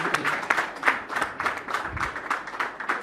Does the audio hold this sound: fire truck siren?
no